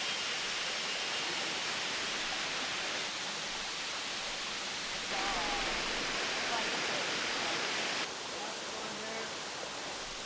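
A spring-fed waterfall on Siquijor island rushes in a steady broadband roar, constant and fairly close, with no talking heard.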